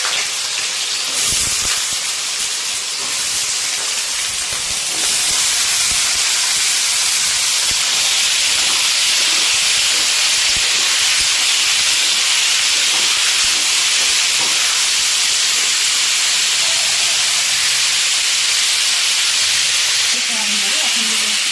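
Potatoes go into a frying pan with soybean chunks and onion for a shallow fry. A loud, constant hiss and sizzle of oil runs throughout at close range, broken only by faint stirring clatter.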